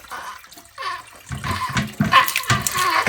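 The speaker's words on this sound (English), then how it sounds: "Try and catch most of that water out." Water splashing and gurgling as a toilet tank is drained during a fill valve and flapper replacement, coming in uneven close bursts with brief pauses between.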